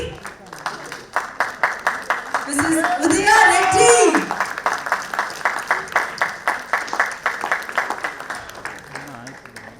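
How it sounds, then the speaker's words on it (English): Audience applause at a women's entrepreneurship day event, rhythmic unison clapping throughout with a swell of louder applause and cheering midway while a host speaks over it. "let's give her a big round of applause"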